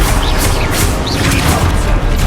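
A loud, dense blast from the Expulso explosion spell in the video game Hogwarts Legacy, a continuous booming crash with metallic swooshes, filling the whole moment without any voice.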